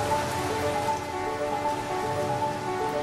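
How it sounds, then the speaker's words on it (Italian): A heavy rain downpour pours down steadily and loudly, a dense, unbroken hiss of falling water with no voices. "Sotto un acquazzone del genere non c'è ombrello che tenga."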